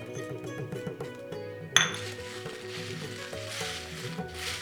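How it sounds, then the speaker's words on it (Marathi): Curry leaves hit hot oil in a pan with peanuts, setting off a sudden loud crackling sizzle that then steadies into continuous frying, heard close over quiet background music. "कढीपत्ता टाकूया."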